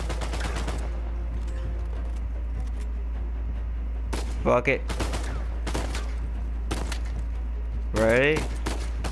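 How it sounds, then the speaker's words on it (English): Gunfire in an Uncharted 4 firefight, scattered sharp shots and short bursts over a constant low hum, with someone talking briefly between them. "Oh no, someone's shooting from there."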